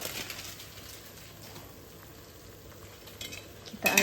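Noodles and pak choy are stirred in a pot, a faint soft bubbling and scraping texture with light clinks near the end, quiet and unaccompanied by talk.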